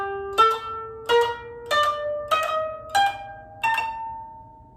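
Six plucked koto notes, each string struck and then scooped back up to sound again in the sukui technique, with bright harmonic attacks that ring briefly and decay at a steady, even pace, heard alone and close.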